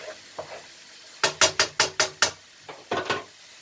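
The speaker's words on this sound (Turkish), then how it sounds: "şimdi soğan ve sarımsaklarım biraz kavurdum arkadaşlar" Onions and garlic being sautéed in a pan, a spoon knocking and scraping in a quick run of six strokes and then a shorter cluster, over a faint low sizzle.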